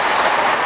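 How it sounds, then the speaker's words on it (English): Steady roar of a Class 332 electric train bound for Heathrow Terminal 5 passing close by at Ealing Broadway station, a continuous broadband rush with no speech. "So about to pass by is going to be a 332 heading off to Heathrow Terminal 5."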